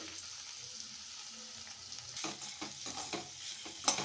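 Chopped vegetables with ginger-garlic paste and salt sizzling in a pan as they are stirred, a steady close fry hiss broken by scraping strokes of a spoon that grow busier toward the end.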